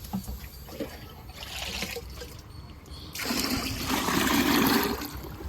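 Water poured into a container holding an all-mix liquid plant solution, a splashing trickle that swells louder and fuller in the second half, close and without talk.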